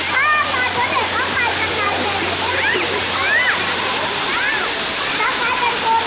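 Sai Yok Noi waterfall in Kanchanaburi, Thailand, pours with a steady, full rushing roar that never lets up, while someone talks over the water throughout.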